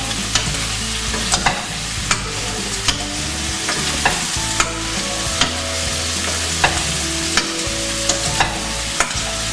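Brussels sprouts with bacon and chestnuts sizzle and get tossed in a hot frying pan, a steady fry under sharp periodic clanks and scrapes as the pan is shaken every second or so, no voices.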